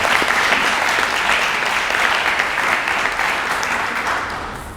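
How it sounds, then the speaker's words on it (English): Loud, dense applause from an audience at an awards ceremony, sustained clapping that holds steady before tapering off near the end. "Why don't we give them another round of applause because it was from the heart."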